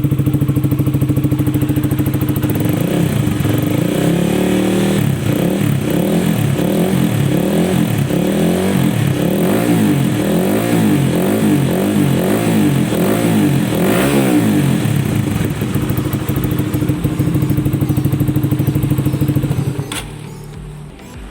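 A motorcycle engine running on fresh Shell Advanced Ultra 10W-40 oil is revved repeatedly in quick, rhythmic bursts over a steady idle, loud and close, before cutting off at the end.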